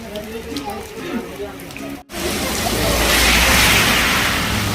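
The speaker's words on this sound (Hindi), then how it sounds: "बारिश फिर से तेज़ हो गई।" Heavy rain pours steadily in Nainital, a loud, dense hiss that follows an abrupt cut, after a quieter stretch carrying a voice.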